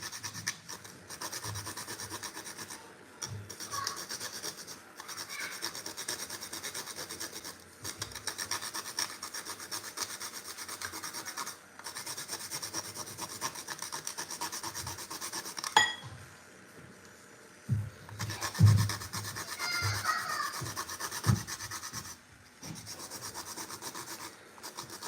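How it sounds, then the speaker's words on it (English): Whole nutmeg grated into carrot cake batter, a close, raspy scraping repeated in steady strokes, broken by a couple of short pauses and a few brief knocks near the end. "I'm going to grate in half of this nutmeg."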